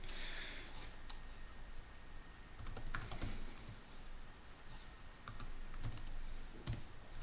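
Computer keyboard typing out a file name, bursts of quick key clicks with short pauses, close and moderately quiet over faint background hiss, no talking.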